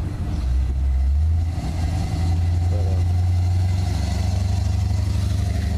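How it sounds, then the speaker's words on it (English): A Chevrolet K1500 pickup truck passes by outdoors, its low engine rumble swelling and holding steady as it drives past, loud and close with no talk. "Check out this sweet K1500 truck going by here."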